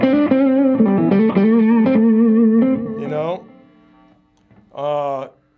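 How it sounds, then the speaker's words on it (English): A distorted electric guitar through a DV Mark Multiamp distortion effect plays a sustained, gritty phrase, then cuts off, followed by a short distorted burst after a brief pause. "here's my distortion."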